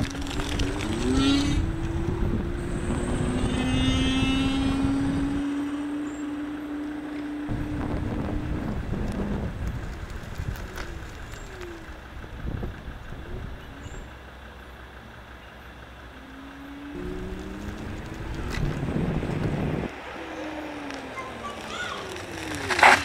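A Ninebot Max electric scooter with new, wider handlebars is ridden outdoors, with constant wind rush over the microphone, a faint whine, and passing road noise that rises and falls.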